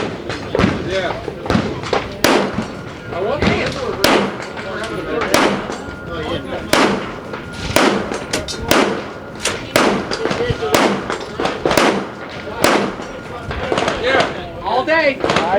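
Rifle shots at an outdoor shooting range on a trade-show range day, loud sharp cracks fired in a quick, fairly regular string close by, with people talking between and under the shots.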